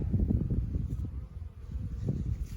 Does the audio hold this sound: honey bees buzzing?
yes